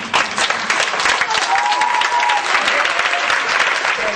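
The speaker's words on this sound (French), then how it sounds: "Lève-toi et acclame très fort le Seigneur." A church congregation claps and cheers loudly in acclamation of the Lord, dense continuous applause with a few voices rising over it.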